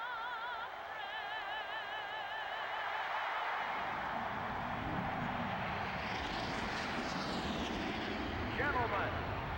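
Race car engines drone steadily in the NASCAR Thunder 2004 video game, a continuous rising and falling roar as the field starts up, with talk over the engines.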